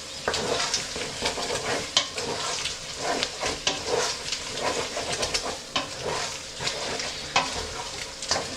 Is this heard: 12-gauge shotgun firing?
no